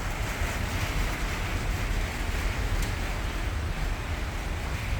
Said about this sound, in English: It's just pouring rain